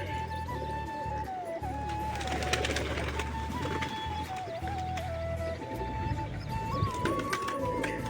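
Pigeons released from their coop mill about nearby, soft cooing and wing flutters mixed with scattered clicks and scuffs over a steady low hum, no speech.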